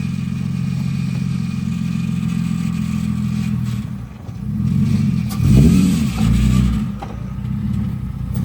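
A Nissan 350Z drives off under its own power, its steady mid-pitched engine drone rising in a brief rev around the middle before settling again, close and continuous with no talk.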